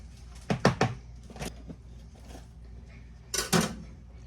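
A metal knife scrapes and clinks against a measuring cup as it levels the cup while making cornbread. There is a quick cluster of close clicks and scrapes early on, then another pair of clinks after a pause, with no speech.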